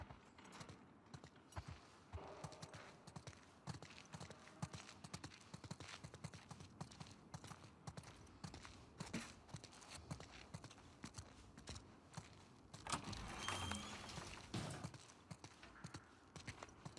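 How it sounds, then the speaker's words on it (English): Horse hooves clip-clop steadily in The Last of Us Part 2, a quiet, continuous run of walking hoofbeats with faint creaks, heard alone at low level for the whole stretch. "Let's get back to the horses."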